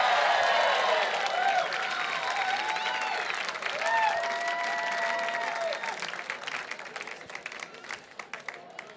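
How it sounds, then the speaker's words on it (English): Gala audience applauding and cheering for three racers, loud sustained clapping with whoops and shouting voices at first, thinning into scattered claps as the ovation fades. "one more round of applause for our three incredible racers"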